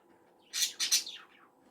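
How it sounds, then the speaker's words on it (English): Pet birds kept indoors give a short run of bright chirps and tweets, three quick bursts close together that trail off, fairly quiet against a soft room hum. "The birds usually talk more when they hear other people talking"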